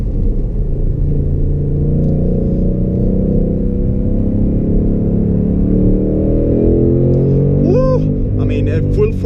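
Cabin recording of a 2019 Ford Mustang Bullitt being driven hard on a wet road, its engine rumbling loud and steady as it downshifts, with a short rising rev burst near the end and a voice talking over it.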